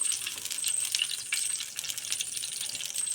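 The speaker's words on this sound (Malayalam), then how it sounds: "വെളിച്ചെണ്ണ നല്ലപോലെ ചൂടായിട്ടേ കടുക് ഇടാവുള്ളൂ കേട്ടോ" Mustard seeds spluttering in hot coconut oil while a potato curry is made, a dense run of sharp, crackling pops close by, fairly loud and continuous, with no voices.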